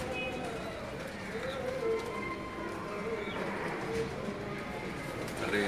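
Pigeons on a high shelf at a rural compound in Rawalpindi cooing softly and repeatedly amid a busy outdoor murmur, with faint chirps and distant voices mixing in.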